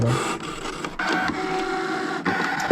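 A Brother ScanNCut cutting machine slices paper, a steady mechanical whir with shifting motor tones and small clicks that runs without a break, close and fairly loud, with no one speaking.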